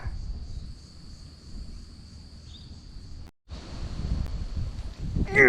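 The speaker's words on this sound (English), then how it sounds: "The cicadas are out." Cicadas droning in eucalypt forest at D'Aguilar State Forest in Queensland, a steady high-pitched buzz with rustling and wind noise beneath, no talking.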